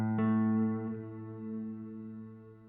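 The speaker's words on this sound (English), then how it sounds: "the plate reverb, which is a little bit more classic style reverb" Plate reverb on a Donner Yellow Fall 2 pedal: a sustained, harmonically rich guitar chord rings out with a second note added shortly after, and a smooth, lingering tail slowly decaying.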